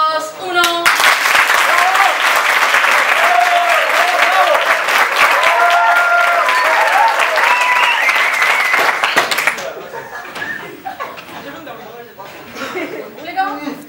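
A theatre audience at an improvisation match bursts into loud, sustained applause with cheering voices for about nine seconds, then the clapping thins out into scattered claps and crowd chatter.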